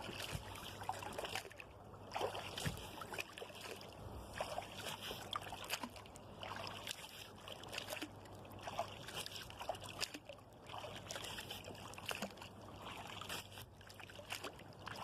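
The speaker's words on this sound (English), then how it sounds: "let's do a little paddling for a while" A kayak is paddled across calm water, with soft rhythmic paddle strokes, drips and sloshing close by, quiet and steady, without speech.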